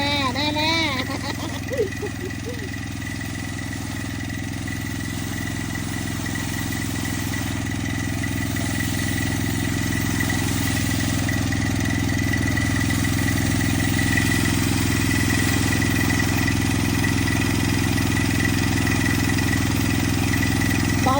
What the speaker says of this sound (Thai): สิบแปดแรงน้ำแรงจริงนะคะเครื่องยนต์ใหญ่น้ำก็จะแรง